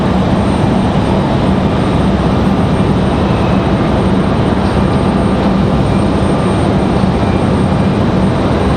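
Steady, loud engine roar from a Republic airliner inbound from JFK to Raleigh-Durham airport, a continuous wash of broadband noise with a faint tonal hum and no voices.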